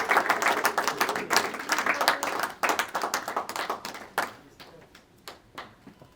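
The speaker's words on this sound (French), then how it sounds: "On va applaudir Christelle, s'il vous plaît." A graduation ceremony audience claps in a close, fairly sparse burst, the hand claps distinct and uneven, thinning into scattered individual claps before fading out.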